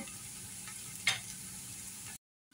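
Minced garlic frying in a pan with cardamom and cloves for fish biryani gives a faint, steady sizzle with one brief stirring scrape in the middle before the sound cuts off.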